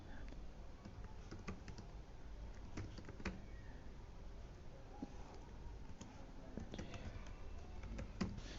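An email address is typed on a computer keyboard, with quick irregular key clicks, faint and close, scattered across the whole stretch over a quiet room hum.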